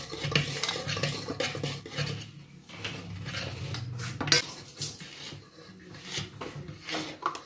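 Cake batter stirred in a bowl by hand, a busy mix of spoon scraping, rubbing and clinks against the bowl, close and fairly quiet, with brief pauses; no talk.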